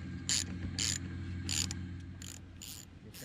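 A ratchet tightens the nut on a Nissan Rogue rear wiper arm in short clicking bursts, about six quick close rachet runs separated by brief pauses, alone without talk.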